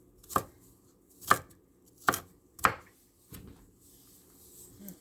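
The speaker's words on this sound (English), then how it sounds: "The onion is this way when I cut it." Knife chopping through an onion on a cutting board while cooking Ampalaya Con Carne, four sharp close cuts spaced about a second apart, then a softer fifth tap.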